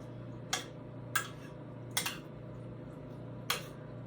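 Spoon stirring a cream of mushroom and milk mixture in a pot, four sharp scraping knocks spaced irregularly over a low steady hum, close and fairly quiet.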